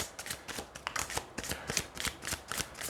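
Tarot cards being shuffled by hand, a quick run of crisp riffling flicks repeating in an even rhythm, close and fairly quiet, with no talking.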